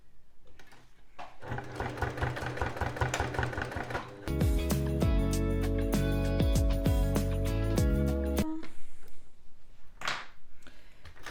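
A sewing machine topstitches a fabric pouch with a zipper, running in fast rhythmic bursts, then a loud sustained stretch of stitching before stopping, with fabric handling sounds around it.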